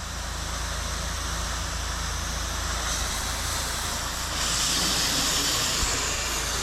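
A pressure washer sprays down the corner of a window where a mud dauber nest sits, giving a steady, loud hiss over a low pump drone that swells stronger partway through.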